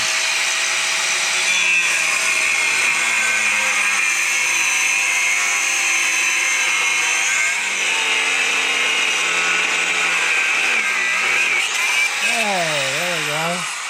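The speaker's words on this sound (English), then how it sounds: "So we'll get started trying to cut these welds." A power tool cuts through welds on metal, a loud, steady grinding whine running throughout with a rising and falling pitch near the end.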